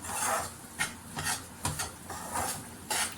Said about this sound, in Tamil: அப்படியே லேசாக வறுத்துக்கலாம் நல்லா கிளறி விட்டுக்கிட்டே இருக்கணும்